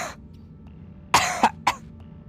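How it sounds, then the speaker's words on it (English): One person coughs sharply three times in quick succession at close range. Each cough is brief and harsh, and a quiet pause comes before the coughs. "That cough there is clearly an indication of health."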